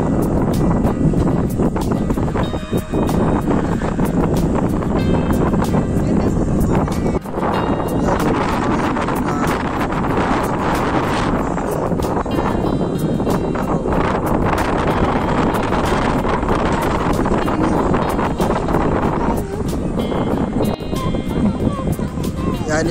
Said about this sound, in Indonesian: jadi anginnya gede banget nih